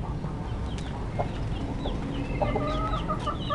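Aseel breed chickens cluck softly amid a busy farm pen, several short chirpy calls scattered over a steady, dense rustling background, moderately close.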